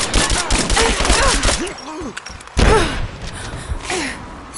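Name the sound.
gunfire in Rise of the Tomb Raider video game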